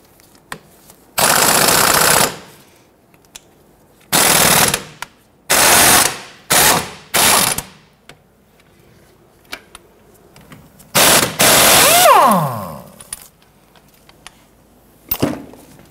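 Power tool with a 14mm socket loosening the sway bar end link nut on a 1992-1996 Toyota Camry during front CV axle replacement, heard as several loud close rattling impact bursts of one to two seconds separated by quiet gaps, with a winding-down whine near the end.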